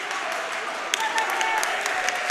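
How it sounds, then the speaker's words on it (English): Coaches and a team applaud after a high school wrestling match between WDHS and Collingswood: a dense, steady wash of clapping hands filling the gym throughout, with a few sharper individual claps standing out in the second half. "I see Collingswood and the coaches, they're clapping"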